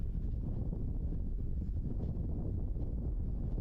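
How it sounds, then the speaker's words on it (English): Heavy wind buffets trackside microphones at a motor racing circuit, a continuous low, rumbling roar with no other sounds standing out. "with the heavy wind, you can even hear it from the microphones around the track"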